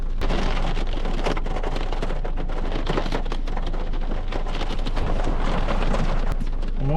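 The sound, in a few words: rain falling through bare autumn trees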